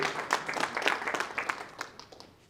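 Audience clapping in applause after a talk about a project supporting homeless young adults; a moderate round of claps that fades out toward the end, fairly distant.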